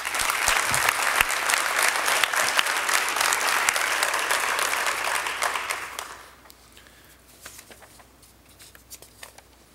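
An audience at a high school wrestling awards event claps loudly and steadily for an honoree, the applause fading after about six seconds to scattered claps.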